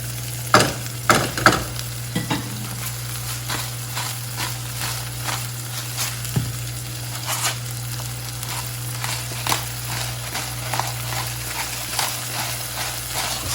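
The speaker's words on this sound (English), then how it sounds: "The celery's going to saute in there." Celery sautéing in a pan, a continuous close sizzle with a steady low hum beneath and repeated clacks and scrapes of stirring throughout.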